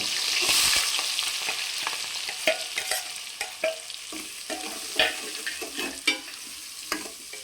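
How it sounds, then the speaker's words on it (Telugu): Onions and green chillies frying in a pan until browned, a soft sizzle under a series of sharp spoon scrapes and taps as the mixture is stirred. "ఉల్లిపాయలు బ్రౌన్ కలర్ వచ్చే వరకు ఆగనిద్దాం బాగా"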